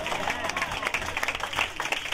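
Applause from the audience at a church rally, a dense burst of clapping with crowd noise, loud and brief.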